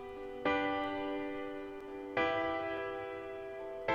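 Three sustained tonal swells that build and end abruptly, each cutting off into the next, like music played backward, with no voices.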